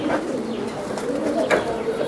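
Soft, low cooing of a racing pigeon repeats in short phrases over a steady background hum, fairly close and moderately loud.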